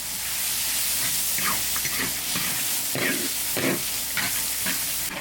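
Hot oil crackles and sizzles loudly and continuously as ginger, garlic, pickled chillies and pickled radish fry, with occasional stirring scrapes breaking through the steady hiss.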